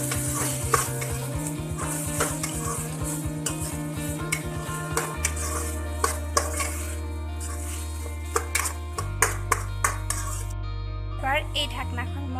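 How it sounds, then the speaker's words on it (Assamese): Kohlrabi and potatoes being stirred as they fry in a pan for a curry: repeated spoon scrapes and metallic clinks over a soft sizzle, with steady tonal background music throughout. "ইয়াত মই কলপচলাখিনি কাটি দিম আৰু এইখিনি ভালদৰে লৰাই ল'ম।"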